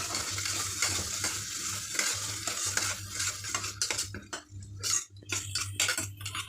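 Chicken and boti cook side by side in one pan, with a steady sizzle and repeated scraping stirs and clinks of a utensil, under a low constant hum.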